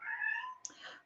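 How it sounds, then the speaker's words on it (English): A house cat meows at length indoors, wanting to be let into the bathroom, a drawn-out cry followed by a short sharp click and a softer trailing mew, close by and with no one talking. "I forgot to put her in the bathroom and now she's crying to go in the bathroom."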